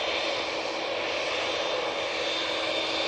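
A TUI airliner coming onto the runway at Manchester Airport hums with a steady jet-engine roar and a thin high whine running through it, moderately distant and alone.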